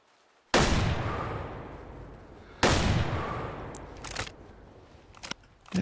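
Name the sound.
hunting rifle shots in Way of the Hunter video game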